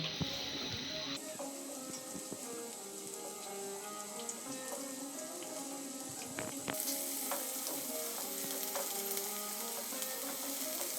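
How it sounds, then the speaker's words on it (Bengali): Chopped onion and garlic frying in about three tablespoons of soybean oil, a steady close sizzle running throughout with light stirring clicks and a brief scraping burst partway through, no talk. "তেলের মধ্যে পেঁয়াজ কুচি দিয়ে দিচ্ছি রসুন কুচি দিয়ে দিচ্ছি এগুলি হালকা বাদামি কালার করে ভেজে নেব"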